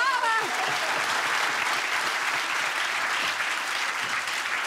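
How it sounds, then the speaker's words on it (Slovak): An audience claps steadily for several seconds. The dense applause stays even from start to finish, and a voice briefly calls out at the very beginning. "ten potlesk je určite veľmi dôležitý ako motivácia pre Dominiku"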